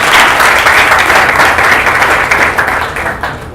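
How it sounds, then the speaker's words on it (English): A conference audience at a Rowad Talk event gives a round of applause, dense, loud clapping from a crowd that holds steady and then begins to taper off. "give them all a round of applause for being here with us"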